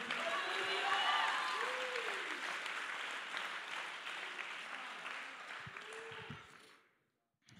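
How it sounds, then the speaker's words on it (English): A church congregation claps and cheers loudly at a sermon, a dense sustained wash of applause and crowd noise with voices mixed in, fading out near the end. "Somebody clap your hands and shout hallelujah."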